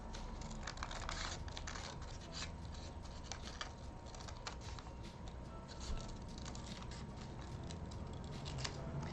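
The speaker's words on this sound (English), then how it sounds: "I'm going to grab my scissors because it's a little easier when it's like something this skinny." Scissors cut a narrow paper skirt pattern panel for an A-line skirt in a steady stream of close, crisp snips and paper rustles with no talking.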